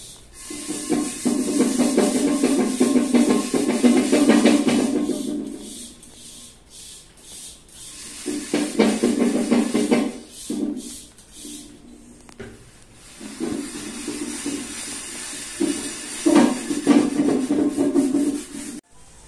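A sponge works stain remover into an oil stain, giving bursts of wet, rasping scrubbing that come in rhythmic strokes, pause, then resume, close and fairly loud with no voices.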